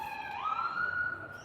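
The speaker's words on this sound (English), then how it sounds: "That's an ambulance before anyone asks." An ambulance siren on a nearby road sounds as one steady, rising wail, clear and fairly close, with no talking over it.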